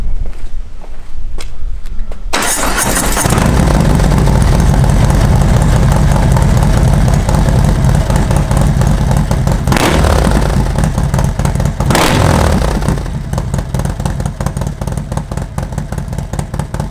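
Motorcycle with brake-light-integrated indicators started in a parking lot: a brief rustle, then the engine catches and runs loud and close, with a couple of rising revs over a steady rumble.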